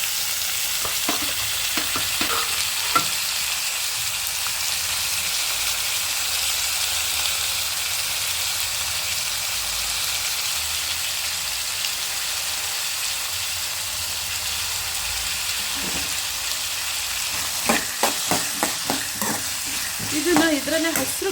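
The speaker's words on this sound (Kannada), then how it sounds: "ಈ ತೊಳೆದಿಟ್ಕೊಂಡಿರುವಂಥ ಪಡವಲಕಾಯಿನ ಇದಕ್ಕೆ ಸೇರಿಸ್ತೀನಿ" Pieces of snake gourd fry in a hot pan for a palya, giving a steady loud sizzle and hiss, joined near the end by a run of clattering stirring scrapes.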